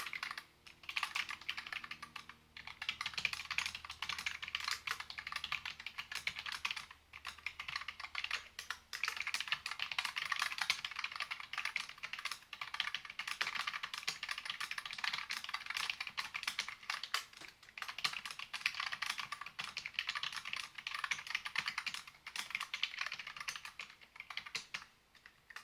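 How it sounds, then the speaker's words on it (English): Fast, continuous typing on a wireless computer keyboard, a dense stream of key clicks with only brief gaps. "How do you think the keyboard sounds?"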